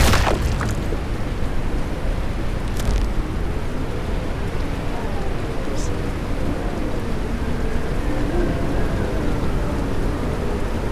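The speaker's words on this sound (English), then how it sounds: "the environment changed, like it's raining and a lot of winds" Heavy rain and gusting wind in the game Crete form a loud, constant roaring wash with a deep rumble underneath, filling the whole stretch without pause.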